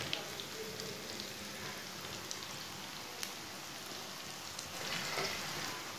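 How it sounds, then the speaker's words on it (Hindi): Eggplant slices fry in hot oil with a continuous crackling sizzle, like light rain, that holds at a moderate level throughout and grows slightly louder near the end, with no talking. "फ्राई के लिए ऑयल लिया था मैंने, ऑयल को मैंने गर्म कर लिया है। अब ये बैंगन डाल लेंगे।"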